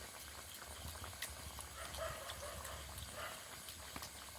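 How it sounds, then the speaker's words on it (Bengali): Khari pastry bubbles and fries in hot oil, a faint, soft, continuous crackling fizz with small pops and no talk. "এই যে দেখুন, ছেড়ে দেওয়ার পর হালকা তেলটা বুদবুদ করে উঠছে।"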